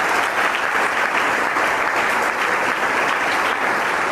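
An audience applauds during a motivational speech by the VCK chief at an IAS academy, producing dense, steady clapping that fills the room at an even level from start to finish.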